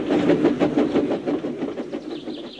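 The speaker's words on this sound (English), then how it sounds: "All he could do was watch the trains rushing through the other tunnel." Trains rushing through a tunnel in an animated children's train story, a loud continuous rumbling roar with a rhythmic clickety-clack that thins out toward the end, with no voices.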